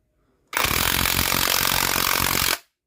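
An MLHY impact wrench runs under load in a single two-second burst, a loud, dense, rapid hammering rattle that starts and stops abruptly, close by with no talking.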